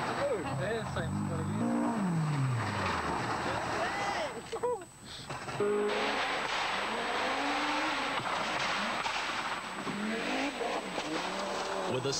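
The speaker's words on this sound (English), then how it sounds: "Some of the lower order cars had some difficulty with one particular bend." Rally cars from the 1985–86 Rally New Zealand stages in the forests near Tokoroa struggle through one tricky bend, engines revving and tyres squealing in loud, continuous passes, with commentary talking over them.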